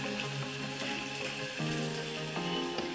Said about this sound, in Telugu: వెంటనే ఉల్లిపాయలు, ఇది ఫ్రై అవ్వనిద్దాం